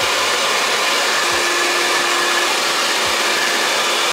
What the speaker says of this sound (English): then you just simply are going to work that in whilst blow drying your hair